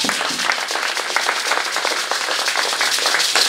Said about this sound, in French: Applaudissez pour ces artistes qui sont là.